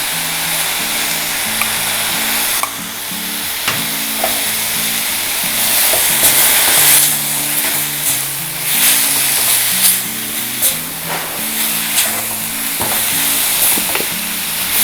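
Grated coconut is stirred into a vegetable palya in a hot pan, giving a steady sizzle and frying hiss with scraping stirs, close and fairly loud, while faint music plays underneath.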